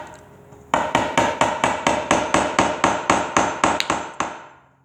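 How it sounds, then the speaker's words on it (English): A small finishing hammer drives a small nail into an Ikea box shelf under repair: about fifteen sharp, evenly spaced metallic taps, loud and close, each ringing briefly, the last fading out. "we're going to hammer that thing in"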